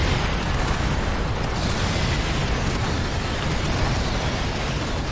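Explosions fill the game Earth Defense Force 4.1, a loud, continuous roaring blast with rumbling debris that sustains without a break.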